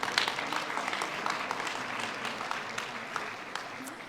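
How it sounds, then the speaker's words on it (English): Audience applause for award recipients at a Tampa Police Department award ceremony, a steady, moderately loud stream of many hands clapping in an indoor hall, continuing evenly without talk. "okay, we'll give them another round of applause."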